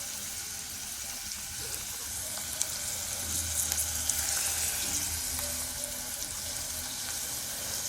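Garlic, onion, chilli and tomato fry in a pan with a steady, close broadband sizzle and occasional stirring scrapes, continuing without speech for several seconds.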